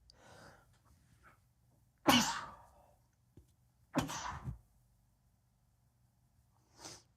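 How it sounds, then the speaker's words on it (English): Two sharp, close sneezes from one person sound about two seconds apart, with soft breathing before them and a faint sniff at the end. "I'm going to sneeze."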